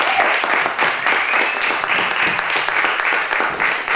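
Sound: audience applause

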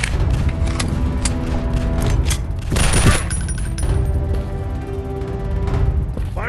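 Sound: gun reloading in Call of Gun Strike, video game

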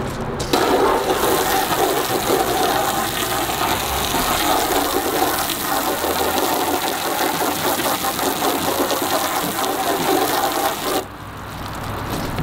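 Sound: spraying water with a hose

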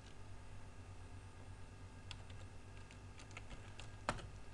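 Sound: typing the abstract keyword on a computer keyboard

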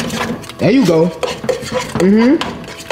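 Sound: stirring a bowl in the kitchen

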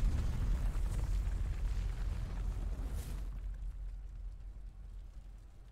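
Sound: huge explosion in the video game Final Fantasy 16

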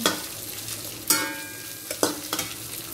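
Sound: frying scrambled egg in a pan

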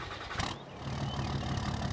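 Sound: Chevrolet Silverado engine starting and idling, Farming Simulator 22 video game

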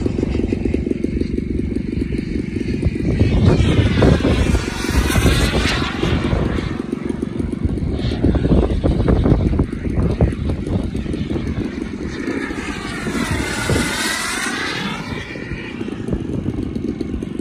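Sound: radio-controlled model aircraft flying and landing

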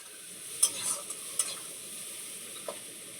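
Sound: spice masala (cumin, coriander, Kashmiri chilli) frying in oil

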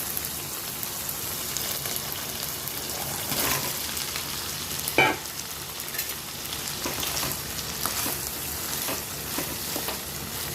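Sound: ridge gourd added to sizzling potatoes in a pan

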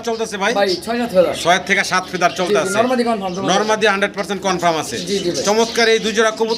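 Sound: pigeons cooing

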